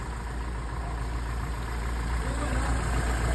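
An older car engine, freshly fitted with new high-tension wires, ignition coil, spark plugs and fuel filter, settles into a steady idle after a rev, a continuous low rumble holding even and close throughout.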